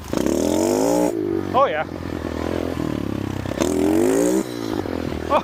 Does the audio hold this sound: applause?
no